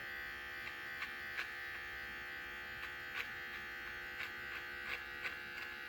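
Electric hair clippers trimming a beard run as a steady, close buzz with faint periodic ticks as the blade passes through the hair, with no voices.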